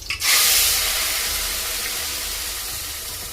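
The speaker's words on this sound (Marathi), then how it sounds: "इथे तेल गरम झालेलं आहे. आता टाकते कढीपत्ते. आता टाकते वाटलेलं वाटण." Ground green masala paste hits hot oil with curry leaves already in the pan, giving a loud burst of sizzling hiss that stays steady and bright throughout, slowly easing a little in loudness.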